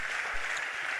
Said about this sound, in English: Please, a round of applause for Cafe One.